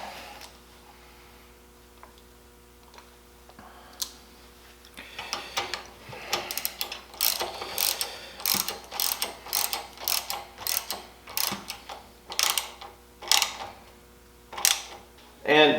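Hand tightening of the hydraulic fluid plug on a DR 4 ton electric log splitter, a run of quick ratcheting clicks in uneven bursts, close and fairly crisp over a steady low hum.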